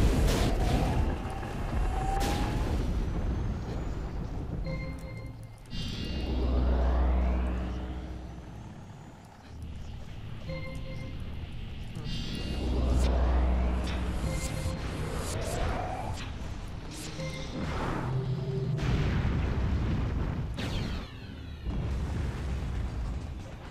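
Heavy explosions tear through an aircraft hangar in the strategy game Project Nomads, deep booming blasts recurring over a rumbling background, loud and close.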